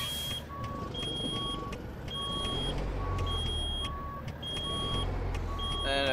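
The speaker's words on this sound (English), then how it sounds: "And I got the buzzer beeping." Reversing buzzer on a truck in American Truck Simulator, beeping in a steady repeating rhythm of evenly spaced tones over a continuous low engine rumble.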